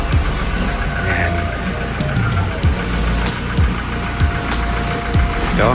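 A Toyota Hilux G 4x2 pickup with about 100,000 km idles steadily up close, a low continuous engine rumble with faint ticking.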